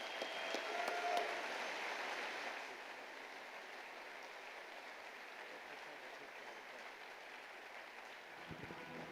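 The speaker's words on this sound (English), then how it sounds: "Nice round of applause" Audience applause fills a hall during a Colorado Snowsports Hall of Fame celebration, steady and dense at first, then easing to a softer sustained clapping for the rest of the moment.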